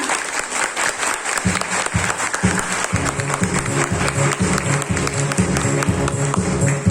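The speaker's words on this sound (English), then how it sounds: "So a loud clap for Principal Sir, Vice Principal Ma'am." Loud applause at a school prize distribution ceremony, honouring the principal and vice principal: dense, sustained clapping from a large crowd in a hall, continuing strongly throughout.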